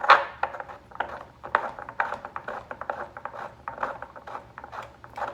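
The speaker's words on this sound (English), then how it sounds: "Just screw it right down in here." A metal pipe is twisted by hand into a tiered tray, giving close, quick scraping and clicking thread noises in irregular bursts with no talk over them.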